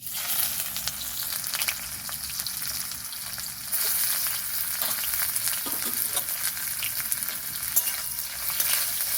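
Chopped onions with whole cumin stir-frying in hot oil, a steady broadband sizzle with occasional spatula scrapes and stirring, close and continuous with no talking.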